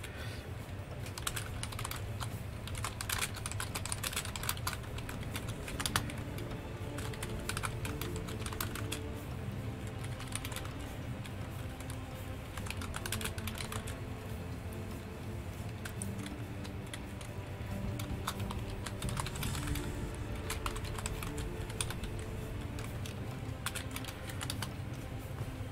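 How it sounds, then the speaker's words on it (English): Continuous rapid clicking of computer keyboard keys, close and steady for the whole stretch, with no talking over it. "I'm typing it in right now."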